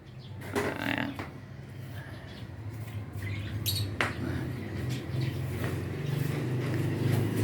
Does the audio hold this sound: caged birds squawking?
yes